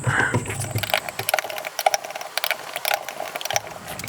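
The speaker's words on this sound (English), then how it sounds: "Tighten down the front screw first and then slightly and evenly all the screws." Small screws on an ImpulseRC Alien drone top plate are tightened with a hand tool, giving a series of close, quick clicking and ratcheting ticks in irregular bursts over a few seconds.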